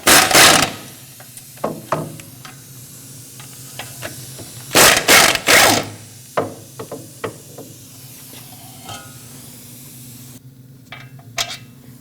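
Ratchet loosening the T55 Torx caliper bracket mount bolts on the rear brakes of a 2014-2023 Jeep Cherokee: loud, close bursts of rapid clicking and hissing spin-down, separated by quieter mechanical clinks, with no talking.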